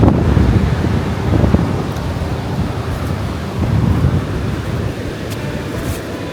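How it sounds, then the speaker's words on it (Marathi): Rough, choppy sea at a beach, a loud continuous rush of surf and wind buffeting the microphone, with swells rising and falling and no talk. "पाणी लय खवळलं ना आता."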